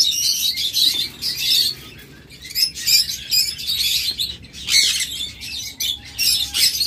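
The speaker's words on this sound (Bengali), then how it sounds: "double red sector green cheek conure পাখি" A double red sector green-cheeked conure gives bursts of sharp, high chirps and squawks, close and loud, in uneven clusters with short pauses between them.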